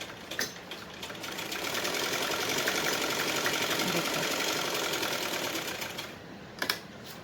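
Steady whirring run of a sewing machine stitching a seam while attaching buckram to a garment, dense rapid needle chatter continuing for several seconds near the mic, with brief pauses and clicks at the start and end.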